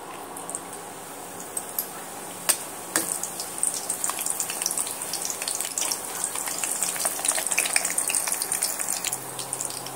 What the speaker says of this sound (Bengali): এর মধ্যে আমি যে পরোটাগুলো আমি তৈরি করে রেখেছিলাম আমি এর মধ্যে দিয়ে এবার ভেজে নেব।